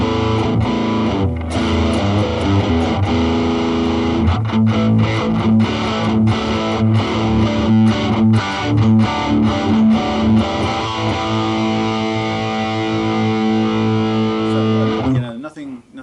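Reloved Guitars Oakcaster electric guitar played through an amp with distortion switched on, sustained broken-up chords and riffs ringing loud and close before cutting off at the end.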